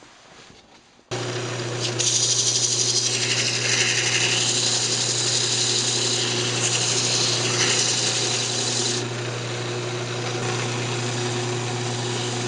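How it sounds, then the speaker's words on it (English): Wooden coffee cup being sanded while spinning on a wood lathe, a steady motor hum with a hissing abrasive rasp layered on top that swells and eases as pressure changes, close and continuous. "we'll just go ahead and sand it up"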